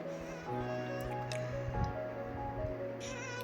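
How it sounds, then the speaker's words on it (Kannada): Water runs steadily while three mangoes are washed by hand, close up. Soft squishes and drips sound as the fruit is rubbed and turned under the flow. "ಸೊ ಅದನ್ನು ಚೆನ್ನಾಗಿ ವಾಶ್ ಮಾಡ್ಕೊಳ್ಬೇಕು"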